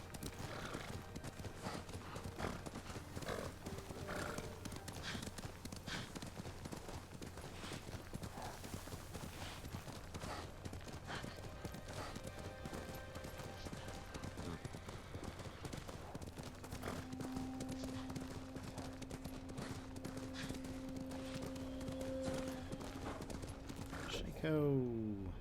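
Horse hooves clip-clop steadily throughout in the video game Ghost of Tsushima, with a neigh, ambient game sounds and a brief louder burst near the end, under a speaking voice.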